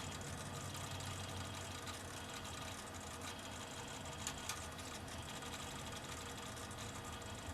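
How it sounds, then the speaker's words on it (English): A Kodak/Verbatim 6.6MB floppy drive in a vintage 386 SX25 PC runs with a steady, noisy mechanical whir and hum, continuous and fairly even throughout, with no talk over it. "the drive is just a bit noisy"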